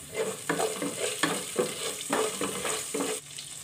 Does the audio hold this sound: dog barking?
no